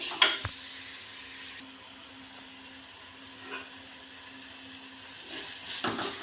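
An onion mixture for a Kerala-style mackerel curry sautés in a pan with a soft, steady sizzle, broken by a few faint stirring clinks and scrapes. No one speaks.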